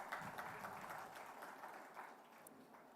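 Faint, distant applause from a conference audience at the close of a session, an even patter of many hands clapping in a large hall.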